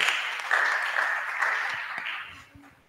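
A brief round of clapping from a youth group in a church Bible class, moderately loud at first and fading out toward the end, with a few faint low sounds as it dies away.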